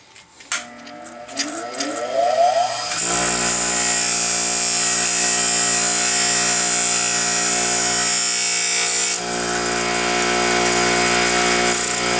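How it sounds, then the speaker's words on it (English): A power drill winds up quickly and then spins a chucked cotter bolt at a steady high-pitched whine for deburring, loud and close, with a slight dip near the end. "I'm chucking that lightly into the drill here because this is basically the final operation."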